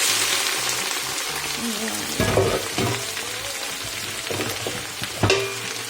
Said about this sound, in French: Que l'huile est chaude, on va mettre les oignons dedans.